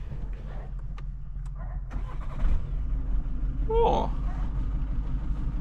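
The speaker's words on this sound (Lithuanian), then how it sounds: "Mašina užsivedė." A car engine cranks and catches with a rising surge, then settles into a steady low idle rumble, while a person briefly exclaims.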